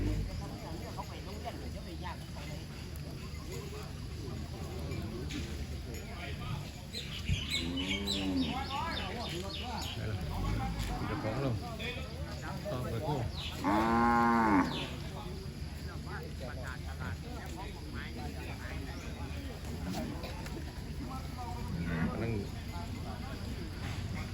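Cattle at a livestock market in Thailand moo several times, long low bellowing calls rising and falling, heard over steady outdoor background noise with faint bird chirps while rain falls.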